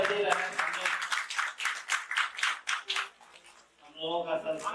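Scattered clapping at a Hindi Day ceremony in Patna, heard under a person talking, with individual claps standing out before a pause and more speech.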